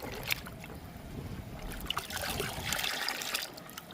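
Soaked mung bean water being poured and mixed into plain water, a soft continuous trickle and slosh of liquid heard close up, quiet and unbroken, with no talking.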